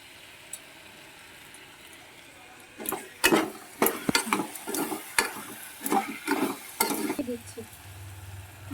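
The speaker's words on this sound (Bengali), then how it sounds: "তো নাড়া হচ্ছে খিচুড়ির মতো বেশ দেখা কতটা নাড়তে হবে আর নাড়তে হবে" Dal is stirred in a pot until thick like khichuri, with a quiet lull before vigorous rhythmic scraping and knocking of a utensil against the metal pot over a light sizzle, ending as a low hum begins.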